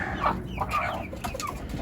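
Hens cluck and squawk in a backyard poultry coop, several overlapping calls of moderate loudness over a steady background hum.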